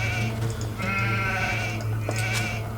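Sheep in the video game Age of Empires II bleat in a couple of wavering cries over a steady background hum, close and clear.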